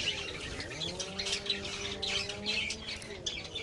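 Pet Java birds in a breeding setup chirp and twitter continuously up close, with rapid high tweets over a few longer, smoother calls.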